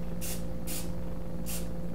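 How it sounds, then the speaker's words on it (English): Pam cooking spray is sprayed onto bread dough in three short, sharp hissing bursts over a constant loud hum of background noise. "I'm gonna take this Pam and spray it on top"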